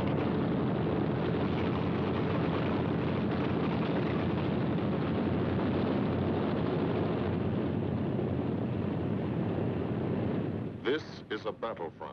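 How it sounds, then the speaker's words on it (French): Deep, continuous roar of bomber aircraft engines over the English countryside, loud and steady throughout, broken near the end by a few sharp bursts as the sound cuts out. "Ici, pas de troupes, pas de coups de feu, mais juste le rugissement des moteurs."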